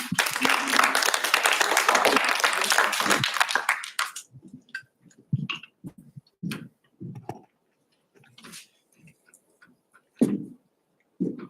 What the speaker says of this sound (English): We're going to welcome Corey Bosica to the stage with some claps